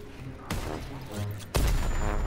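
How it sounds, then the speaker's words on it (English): Loud bursts of gunfire erupt twice in Call of Duty WW2 as players shoot at bombs, a sustained crackling barrage that swells sharply toward the end over a constant battle din. "I like how we're shooting at the bombs."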